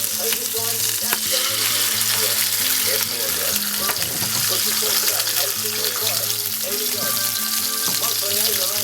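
An egg frying in a hot pan beside a burger patty for a brioche brunch burger, giving a steady close sizzle with light crackles under background music.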